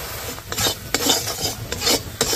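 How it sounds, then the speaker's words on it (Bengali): Palm jaggery stirred into water in a wok makes close, repeated scraping and rasping strokes at an uneven rhythm, with no talk. "এবার আমি পাটালি গুড়টার মধ্যে দিয়ে দিচ্ছি যাতে তাড়াতাড়ি গলে যায়।"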